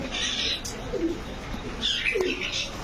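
Fancy pigeons at a farm give low, soft coos, two brief rolling calls about a second apart, set under a steady background of chirping birds.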